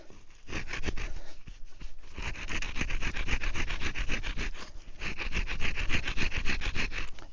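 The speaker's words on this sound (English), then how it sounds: "I'm gonna work on the top of the spindle now." Wooden bow drill spindle top being abraded by hand, giving a steady close-up rubbing, rasping scrape in repeated strokes with a brief pause near the middle.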